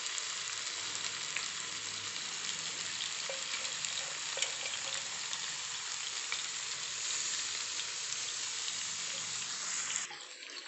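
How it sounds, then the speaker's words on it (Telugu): Marinated chicken leg pieces fry in a pan over the flame with a steady, dense sizzle and crackle that holds for about ten seconds, then shifts briefly at the end. "దీన్ని మనం మీడియం ఫ్లేమ్లో ఫ్రై చేసుకోవాలి."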